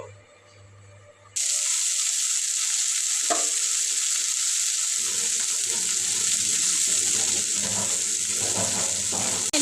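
Oil sizzles and spits loudly in a frying pan, bursting in abruptly after a quiet moment and holding a steady, close, crackling hiss with occasional stirring noises.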